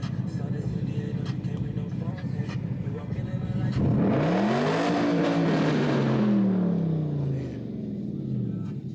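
A manual-transmission Dodge Challenger pulls away in first gear. Its engine idles steadily, then revs up for several seconds and drops back, close and loud, with a learner being coached by voice over it.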